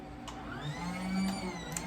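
A child's small toy vacuum cleaner running nearby, giving off a continuous whirring motor whine with a wavering pitch and a low hum beneath it, without a break.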